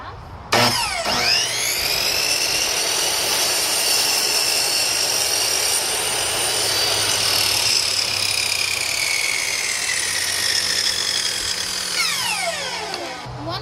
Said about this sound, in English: I'm gonna do one plank at a time, and I'm gonna use my miter saw to do it